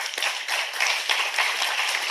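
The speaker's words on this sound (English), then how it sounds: "Applause" A crowd at a CEO and CHRO leadership forum and awards event gives a short round of applause, crisp dense hand clapping, fairly loud and steady, with no voices over it.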